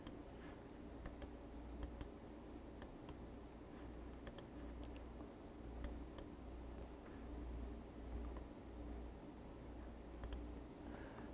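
Faint mouse or key clicks on a computer running accounting software, sparse sharp ticks scattered irregularly across the stretch over a quiet steady background hum.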